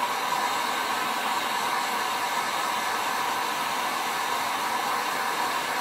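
A heat tool blows hot air to dry chalk paint on a stenciled wall mural, a loud, steady, close whooshing roar that holds constant throughout with no talk.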